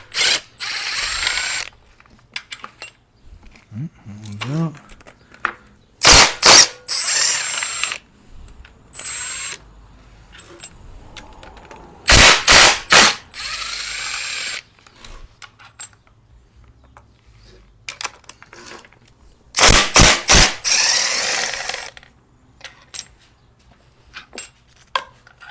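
Ratchet wrench loosening TGV bolts on a Subaru STI engine during a teardown, heard as several separate bursts of rapid clicking with quiet pauses between, close and clear with no talking.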